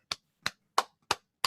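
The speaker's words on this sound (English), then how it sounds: "let's give an electronic hand clap for this brother Skooda and Self Love" An electronic hand clap sound effect: five crisp, evenly spaced claps in quick succession, dry and sharp with silence between each.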